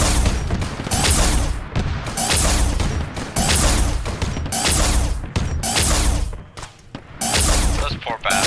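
Arma 3 gunfight with a Warhammer Space Marine theme: loud, dense bursts of gunfire and heavy thumps pile up in repeated volleys, with a short lull before firing resumes.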